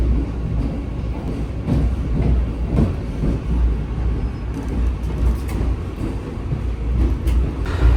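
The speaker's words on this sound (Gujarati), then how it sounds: "અને આપણી ટ્રેન આગળ વધશે વાંકાનેર તરફ" A Vande Bharat express train runs along the Ahmedabad–Jamnagar line toward Wankaner, giving a steady, close low rumble with faint rattling throughout and no talking.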